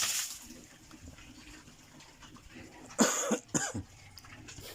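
A few rough coughs near the end, close and fairly loud, following a stretch of quiet splashing water from a dipper at a backyard pig pen.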